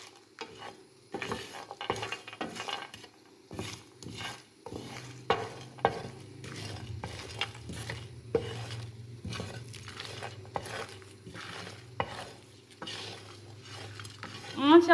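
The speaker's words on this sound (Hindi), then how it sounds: "तमाम मसाला जात को दरमियानी आंच पर ड्राई रोस्ट करेंगे" Whole spices for biryani masala dry roasting in a pan over medium heat, with repeated scraping and stirring strokes of a utensil against the metal, soft rattling of seeds and a faint low sizzle throughout.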